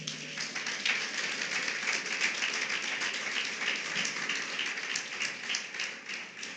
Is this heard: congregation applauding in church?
yes